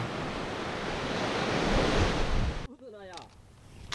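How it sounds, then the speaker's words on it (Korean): Strong surf from the open sea pounds the shore of a small fishing village, a loud, wind-blown roar for under three seconds before the scene cuts abruptly to a quieter setting with faint chirping calls. "그래서 파도가 셉니다."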